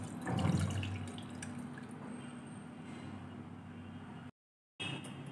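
Tamarind pulp soaked in water a second time drains through a filter in a kitchen, a close, steady trickle with a splashy burst early on, running over a constant low hum before a brief cutout.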